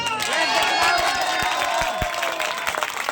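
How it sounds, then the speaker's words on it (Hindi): A crowd at a Republic Day gathering claps and cheers loudly, with raised voices mixed into the steady applause and a few sharp claps standing out. "जोरदार एक बार और ताली बजाएंगे"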